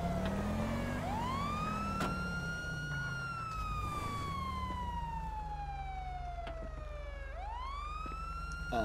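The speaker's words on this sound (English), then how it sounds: "Why is she on her sirens?" A police car siren wails continuously, its pitch sweeping up and down in slow, loud cycles heard close by from inside a vehicle, with steady engine and road rumble underneath.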